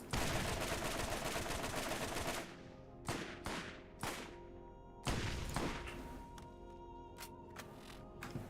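Rapid automatic fire from Ajax's Ogre rifle in Borderlands 1, a dense sustained burst that cuts off, followed by several separate sharp shots and a few lighter trailing pops, with no talking.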